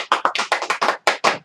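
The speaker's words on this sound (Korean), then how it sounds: "박수 좀 쳐주세요" About nine sharp, evenly spaced hand claps from a lecture audience, crisp and close, quickly following one another with no talk.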